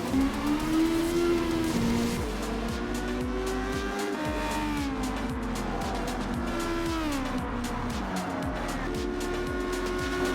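Race car engines in Gran Turismo 7 roar loudly and steadily through an overtake for about ten seconds, with rising and falling pitch as the cars jostle and faint tire squeal in places.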